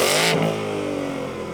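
A 2024 Ford Mustang Dark Horse V8 in quiet exhaust mode gives a loud, brief rev that drops into a steady, rumbling idle. The burst is bright and forceful, then settles to a lower, even drone. No voices are present.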